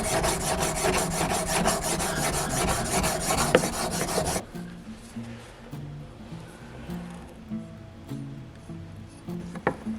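Rhythmic rasping strokes of a blade pushed back and forth across a diamond sharpening stone, loud and gritty at first, then quieter and finer for the second half.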